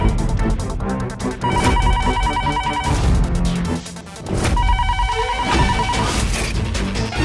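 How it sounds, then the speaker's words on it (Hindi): An unanswered landline home telephone rings in two long bursts of repeated bell tones, loud and close, with a brief lull between them. "घर का फोन भी नहीं उठा रहा।"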